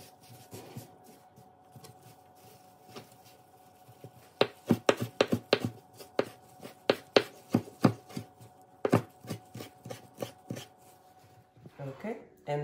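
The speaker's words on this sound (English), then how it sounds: "now we're gonna be moving on to chopping the cilantro" A knife chops fresh cilantro on a cutting board for homemade guacamole, giving a run of sharp, closely spaced cuts in a quick, uneven rhythm, close up over a low kitchen hum.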